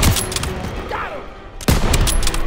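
Gunfire in Call of Duty WW2 during a street battle, with sharp bursts of shots at the start and again after a brief lull, loud and close, amid battlefield noise.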